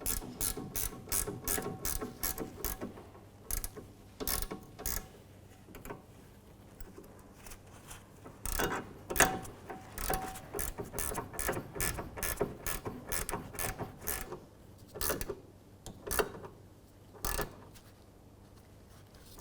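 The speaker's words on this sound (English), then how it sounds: "On the top, you're going to have to use like a ratchet wrench." A ratchet wrench works the top nut of a rear sway bar link on a 2005-2009 Subaru Outback, giving fast, steady bursts of close, crisp clicking with brief pauses between strokes.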